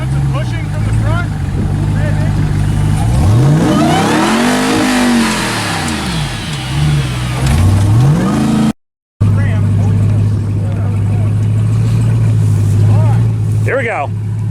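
Traxxas TRX RC truck's engine whines and revs hard while shoving a car from the front, the pitch sweeping up and down in surges, loud and close with voices talking over it.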